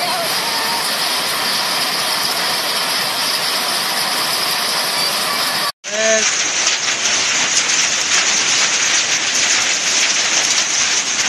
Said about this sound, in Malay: Hujan es.